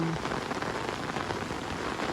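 Steady rain patters down on surfaces outdoors, a continuous even hiss with no breaks.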